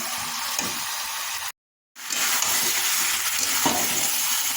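Fish being slowly sautéed (kosha) in a pan for a Bengali dish, giving a steady, close sizzle and hiss with a brief cut to silence partway through.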